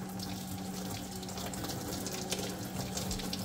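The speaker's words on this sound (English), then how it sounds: "So now, I have hot water running in the background." Hot water runs steadily from a tap during a car parts cleaning job, a constant close hiss and splash with no talking.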